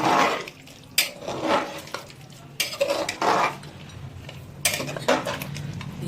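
Mutton heart curry being mixed in a pot: a spoon scrapes and stirs in several bursts, with a soft sizzle and clinks of metal against the pot between strokes, close and fairly loud.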